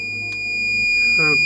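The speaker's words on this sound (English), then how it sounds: "when the voltage hit 33 volts, the low voltage alarm started to sound." A Ryobi 18V 2600W power station sounds its low-voltage alarm at 33 volts, a loud, steady high-pitched electronic tone held throughout with faint background noise.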